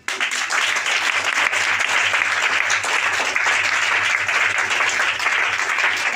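A church congregation applauding to acclaim Jesus during a sermon, loud, dense clapping that starts abruptly and holds steady throughout.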